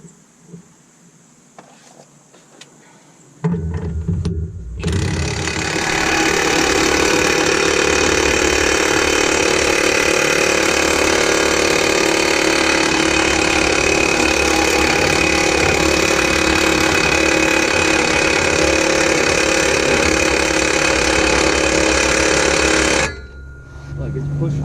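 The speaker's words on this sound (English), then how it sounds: "Pushing the U-joint through the cap." A press or power tool forcing a U-joint through its bearing cap on a driveshaft yoke for a 1968 Kenworth W900A with an 8V71 two-stroke diesel, a loud, steady grinding roar that starts abruptly and holds for about twenty seconds before cutting off.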